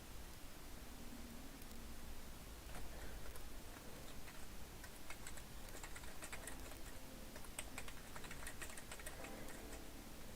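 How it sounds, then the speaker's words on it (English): Computer keyboard typing, clicky and fairly loud, comes as a fast irregular run of sharp taps over a steady hiss of background noise. "don't mind the loud clickety-clack of the keyboard here in just a second"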